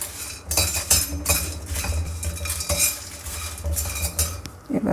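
Whole spices for garam masala dry roasting in a pan over medium heat, with repeated close metallic scrapes and clinks of a spoon against the pan and a dry rattling of seeds, no voices.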